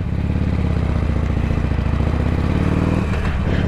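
Harley-Davidson Sportster Iron 883 motorcycle being ridden, its engine loud and close with a continuous low throbbing drone and a slight shift in pitch near the end, no talk.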